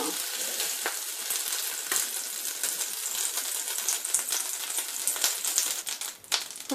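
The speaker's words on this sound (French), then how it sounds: "On laisse fondre le beurre." Butter melting in a pan for an Indian beetroot halwa dessert, a close, crackling sizzle with sharp pops and small clinks, steady and unbroken, with no voices.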